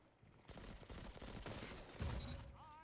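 Rapid gunfire in the video game Destiny 2 Shadowkeep: dense, loud bursts of shots crackle almost without a break, growing a little heavier toward the end, with no talking.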